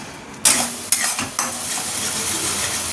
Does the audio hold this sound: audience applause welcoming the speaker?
no